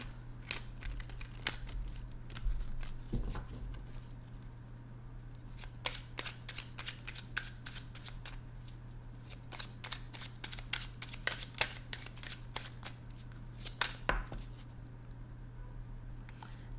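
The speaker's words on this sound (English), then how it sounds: "I'll give you a shuffle." Tarot cards are shuffled by hand close to the mic, a string of quick, crisp riffling snaps and clicks in irregular bursts over a low steady hum.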